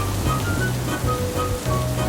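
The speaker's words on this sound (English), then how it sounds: "the rain hasn't let up at all" Heavy rain falls steadily as a dense, loud broadband hiss, with some low rumble underneath and no voices.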